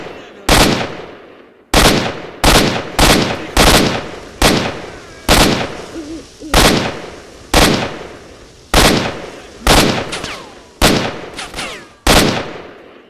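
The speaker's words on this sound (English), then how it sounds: "in S.T.A.L.K.E.R's hideout I found an AK that has double firing rate" AK rifle with a doubled rate of fire from the video game S.T.A.L.K.E.R.: Shadow of Chernobyl, about fifteen loud, sharp shots, mostly single or paired, spaced irregularly with echoing decay between them.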